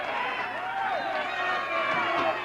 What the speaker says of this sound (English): And the fans are cheering.